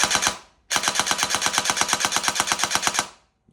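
Airsoft AEG with a Kestrel V2 eshooter firing full auto at 100% rate of fire: a short burst, a pause, then a long, fast, even stream of mechanical shots, close and loud, ending abruptly.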